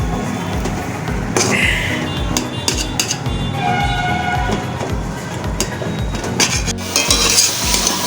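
A utensil scrapes and clinks against a pan while dal chachchari, a lentil dish, is stirred over the heat, with rhythmic metallic scraping and a soft sizzle running throughout.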